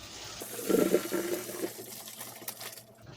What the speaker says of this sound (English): Drain the pasta.